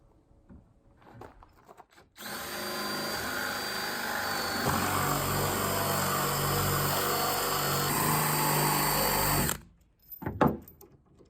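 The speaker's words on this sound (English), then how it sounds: "So we're just going to take down some of the surface here to countersink the bolt" A power drill countersinking a bolt hole in a plywood van sub-floor whines steadily at close range for about seven seconds, starting abruptly and cutting off sharply, with faint clatter before and after.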